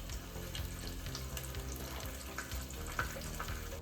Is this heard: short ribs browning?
yes